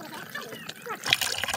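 A mountain spring runs weakly with a faint, soft trickle and light splashing, quiet and steady, growing slightly brighter toward the end.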